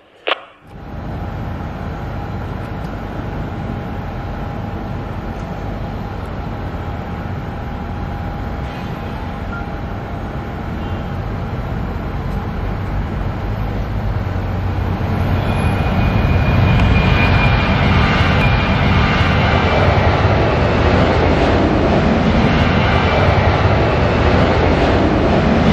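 An aircraft takes off from runway 36 during an airport accident exercise, its engine roar building steadily from a moderate drone to a loud, broad rumble.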